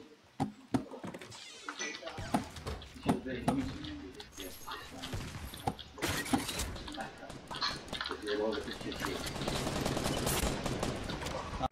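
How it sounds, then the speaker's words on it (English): Bursts of gunfire crack out in a multiplayer video game, scattered single shots giving way to denser rapid volleys, heard under players talking over voice chat. "Are you shooting at someone?"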